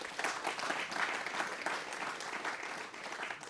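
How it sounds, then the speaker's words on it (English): Audience applause at a university quiz bowl semi-final, a dense steady wash of many hands clapping throughout, moderately loud and continuous with no pause. "Let's give them a round of applause."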